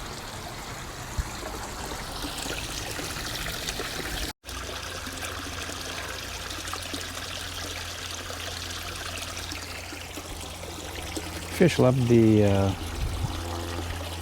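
Fresh water splashes steadily into an outdoor goldfish tank, a continuous near pour and trickle under a calm speaking voice, with a louder gurgling surge toward the end.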